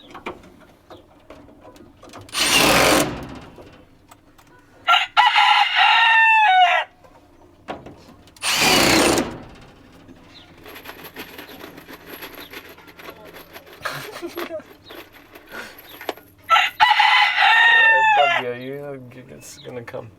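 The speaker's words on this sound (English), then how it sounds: "Hey, here's some geese." Farm poultry with geese among them gives several loud honking, crowing bursts spread across the stretch, separated by quieter gaps with faint rustling and scattered clucks nearby.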